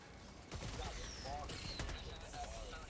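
Rapid automatic gunfire from a deployed sentry turret in the video game Helldivers 2, a dense sustained fusillade with mechanical clatter, loud and continuous throughout, with battle noise around it.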